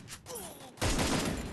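A sudden loud volley of video game gunfire erupts after a quieter stretch and continues as a dense, sustained barrage.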